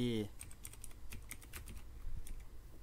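Rapid clicking keystrokes on a computer keyboard patter steadily and close for the whole stretch, with a brief tone at the very start and no speech over it.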